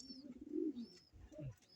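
Pigeons in a fancier's loft of young birds give two soft, low cooing phrases, fairly faint and close against a quiet background.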